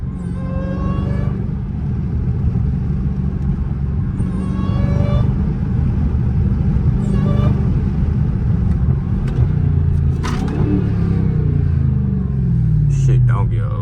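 A tuned Dodge Hellcat with a supercharger and no hood, heard from inside while driving: a loud, steady engine rumble with a rising high whine, running continuously throughout as someone talks over it.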